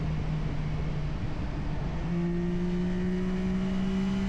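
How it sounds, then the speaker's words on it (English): Motorcycle engine droning inside the long, orange-lit Kalimash road tunnel in Albania, a steady echoing hum with a sustained tone that shifts pitch partway through, continuous and unbroken with no talk. "the sound of engines echoes in a steady rhythm, creating a strangely calming ride."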